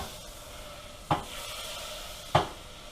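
Very thin Pennsylvania Dutch noodles browning in melted butter in a pan, a soft steady sizzle with two sharp stirring scrapes, close up.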